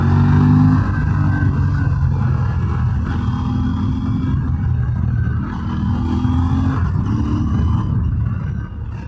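An Aprilia RS 457 400cc sport motorcycle accelerating hard in sports mode, its engine roaring loud and close, rising through revs with brief dips at gear changes, no talk.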